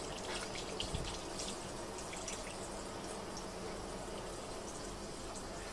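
Water flows steadily from a 360° rotating water-saving tap nozzle on a dual-flow faucet, a continuous broadband splashing rush running evenly for several seconds with no talk.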